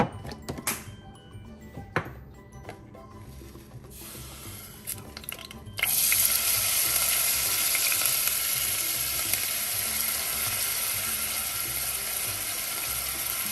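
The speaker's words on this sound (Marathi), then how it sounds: "कांदा छान परतवून घेते मी." Onions drop into hot oil and break into a loud, steady, bright sizzle after a few quiet clicks and taps, then keep frying continuously close by.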